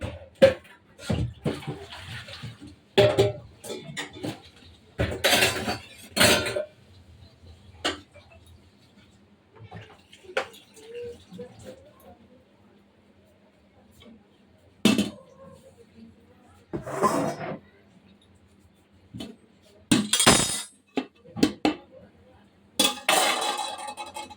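Dishes and utensils clatter in scattered bursts of clanks and scrapes, with quieter stretches and faint running water between them.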